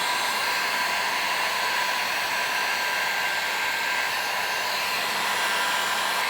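Heat gun blowing hot air over vinyl wrap film on a car fender: a steady, close, loud whooshing roar with an even fan whine and no variation.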